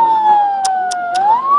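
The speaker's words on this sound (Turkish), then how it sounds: "Bakın ambulans şurada." An approaching ambulance siren at an off-road accident scene in Düzce, Turkey, sounding as a loud, steady wailing tone that dips and then rises, with a few short bursts of noise over it.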